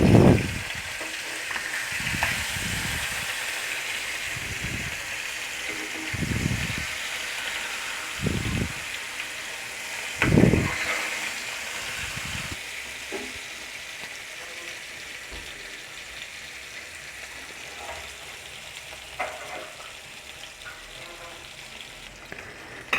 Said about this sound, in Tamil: இப்போ மீன் பொரிஞ்சிடுச்சு